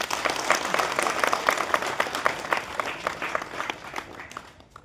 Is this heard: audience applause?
yes